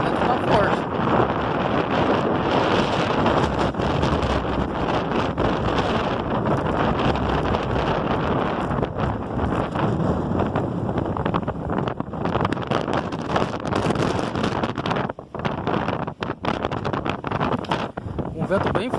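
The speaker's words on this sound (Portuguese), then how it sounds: "tô aqui na Praia do Rosa com um ventão forte, hein? O vento tá forte." Strong wind buffets the microphone on the beach at Praia do Rosa, a continuous loud roaring rumble with gusty surges and brief dips near the end, while someone talks over it.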